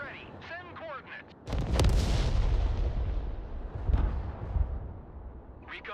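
Mortar fire in the video game Broken Arrow: a heavy boom erupts and rumbles on, with a second loud blast a couple of seconds later, between bursts of radio-style voice chatter.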